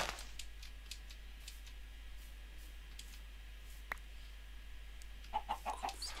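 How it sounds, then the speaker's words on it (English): Chickens clucking in Minecraft on the FTB Horizons modpack, a few short, faint clucks near the end over a steady low hum, with soft clicky game sounds scattered before them. "Chickens."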